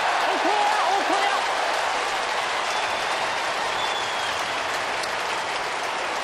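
Melbourne fans at an AFL football match against Fremantle raise a Bronx cheer when their side kicks the ball, a loud, sustained roar of crowd noise that stays steady throughout, with a few brief whistles near the start.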